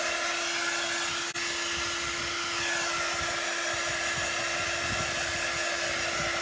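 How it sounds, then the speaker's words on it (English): A hand-held blower or hair dryer pushes warm air over freshly painted craft work, a loud, steady whooshing drone that runs unbroken throughout apart from one tiny dip. "it's mainly blowing warm air to help dry this"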